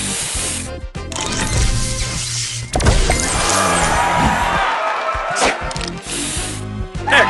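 A spray booster effect fires in a puzzle video game, giving a loud, dense hiss and spray burst. Clattering, crash-like game effects pile on top, with a short dip before a louder surge partway through.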